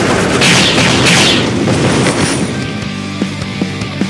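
An artillery dash attack in the action game Closers, a loud booming explosive blast that rumbles and fades over a few seconds, followed by faint ringing game effects.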